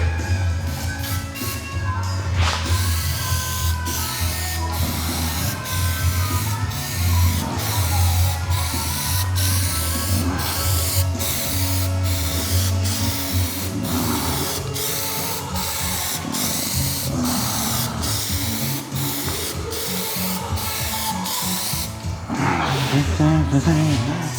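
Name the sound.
spraying Plastidip Glossifier coat on Porsche Cayman spoiler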